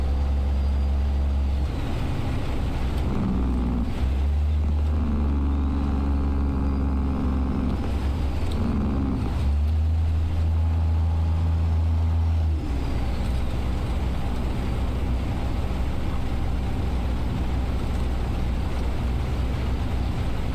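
Truck engine running in the video game American Truck Simulator, a loud, deep, close rumble that swells and eases through several revving stretches before settling into a steady drone, with no talk.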